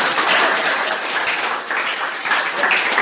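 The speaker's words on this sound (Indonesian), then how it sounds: "Tepuk tangan." Classroom of high school students clapping together, a loud, even wash of hand claps filling the room with no pause for about three seconds.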